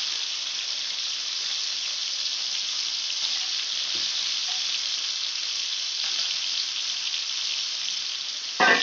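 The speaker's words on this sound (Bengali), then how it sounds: "তেল গরম হয়ে গেছে, এবার এই সবজিগুলো আমি এই তেলের মধ্যে ফ্রাই করে নেবো।" Vegetables fry in hot oil with a steady, even sizzle that holds close and constant, broken by a couple of faint clinks and a brief louder rattle at the end.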